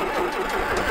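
A cold engine, chilled by 26-degree overnight weather, cranks hard on its starter with a strained, continuous mechanical whirring and rhythmic churning, close and fairly loud, with no talking.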